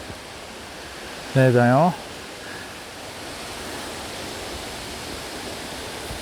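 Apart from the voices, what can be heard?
waterfalls in the Fairy Glen, Rosemarkie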